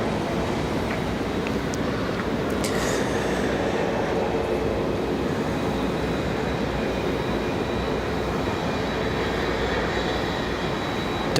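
An Icelandair airliner taxis out at Raleigh-Durham airport with a loud, steady engine roar that holds for the whole stretch. A few faint higher tones sit over the rumble.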